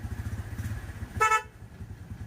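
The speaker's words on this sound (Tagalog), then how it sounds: "Busina." One short Honda car horn toot sounds up close over a running engine's low, pulsing idle.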